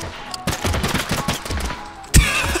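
Rapid bursts of cannon fire in the battle royale video game Totally Accurate Battlegrounds, a loud run of repeated booming shots followed by a single heavier blast near the end.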